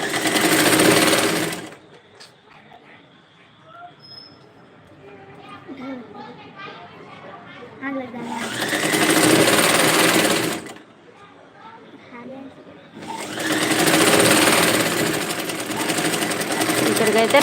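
A sewing machine stitching a dress runs loud and close in three bursts of steady whirring. Between the bursts someone talks quietly in Telugu.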